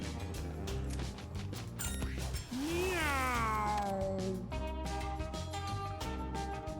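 Cartoonish cats in the video game Mewgenics let out a drawn-out meow with a rising and falling wail, set over game music and clatter, fairly clear in the mix.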